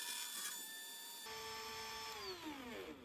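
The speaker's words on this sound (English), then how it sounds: "gonna put the router outside and come in from the outside. And I'm only cutting 1/4 inch deep." A router cuts a shallow quarter-inch-deep pass in wood while fitting a barn door, giving a steady high-pitched whine with tonal harmonics that rises at onset and later sweeps downward as the motor slows.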